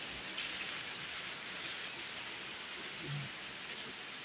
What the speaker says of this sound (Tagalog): Grabe po, guys. Tanghaling maulan.